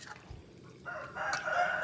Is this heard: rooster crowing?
yes